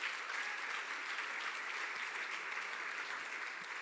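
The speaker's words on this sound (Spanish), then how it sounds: "¿Alguien le puede dar un fuerte aplauso a Dios hoy?" A church congregation claps together in dense, even applause, heard at a moderate distance and continuing steadily without any talk over it.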